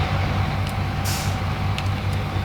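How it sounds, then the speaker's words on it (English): Truck engine in the Snowrunner video game, a modded truck heard from an orbiting camera, a steady low rumble with faint hissing bursts, running continuously at moderate level with no talk. "You'll hear as I orbit the truck how the sound sort of cuts out and in."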